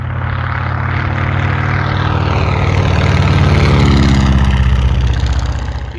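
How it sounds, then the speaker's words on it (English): A seven-cylinder radial engine on a WACO biplane runs steadily and loudly, a deep throbbing drone with a rising then easing roar and no talking over it. "there is nothing like the sounds of a radial engine"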